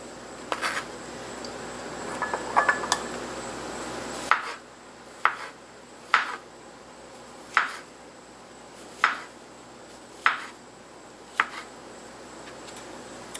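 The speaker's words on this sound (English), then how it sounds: "So I'm just going to chop these up." A knife chops vegetables for a ginger chicken stir fry on a cutting board, giving about nine sharp, evenly spaced knocks at a steady unhurried rhythm, close by and without speech.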